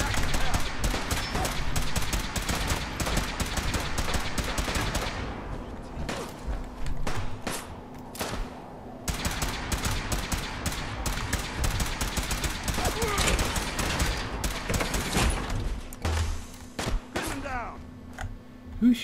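Heavy incoming gunfire hits the player in Fallout 4, loud dense bursts of rifle and automatic shots rattling almost continuously, a brief lull in the middle, then more volleys, with a voice talking over parts of it.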